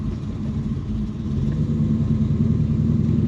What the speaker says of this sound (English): So before we go for a spin, this is really low RPMs, and this is really smooth.